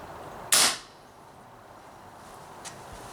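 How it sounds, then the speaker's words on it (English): An Umarex Marlin BB revolver fires one loud, sharp shot through a chronograph indoors, followed by a much fainter click about two seconds later over a quiet room hiss. "still spits out the BBs at quite a rate"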